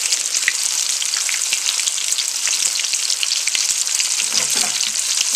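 Squirrel pieces fry in a pan of oil, about halfway submerged, giving a loud, dense, continuous sizzle and crackle with scattered pops. A brief low clunk comes near the end.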